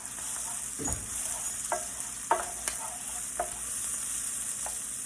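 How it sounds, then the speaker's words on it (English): Onions softening in a hot pan, frying with a continuous close sizzle broken by several sharp scrapes and clacks from stirring. "Just softening these onions"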